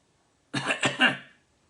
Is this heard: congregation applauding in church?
no